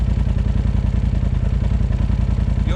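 A Polaris RZR side-by-side idles and runs steadily in the woods, with a loud, close, continuous engine drone and mechanical clatter throughout.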